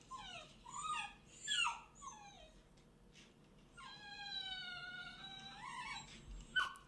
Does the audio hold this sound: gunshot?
no